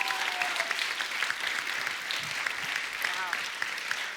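A studio audience on The Kapil Sharma Show claps in sustained, dense applause that holds steady from start to finish.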